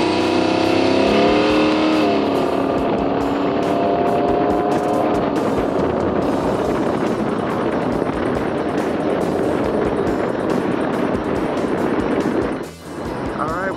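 A Baja 1000 race car accelerates away with a loud, rising engine roar that climbs through the gears, then settles into a steady driving drone under heavy wind noise, with a brief dip near the end.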